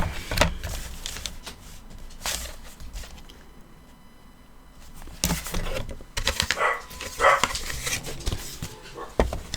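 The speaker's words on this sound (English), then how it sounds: "I swear that dog." A dog barks in bursts somewhere in the house during a box-making craft session, the sharp barks spread through the clip over light tapping and handling noises, fairly close and loud.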